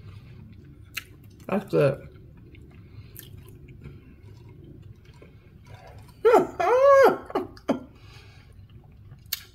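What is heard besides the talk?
biting and chewing a sloppy joe sandwich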